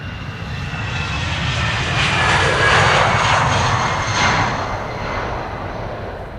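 An airliner departs Amsterdam Schiphol Airport, its broad engine roar swelling to a peak mid-clip and easing slightly, steady and fairly close, with no talk.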